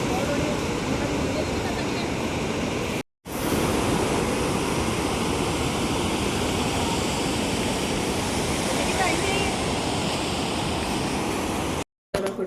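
Falling water on the way toward the Kaveri on a trip to Male Mahadeshwara hills roars loud and steady with a windy rush, cut by two brief dropouts.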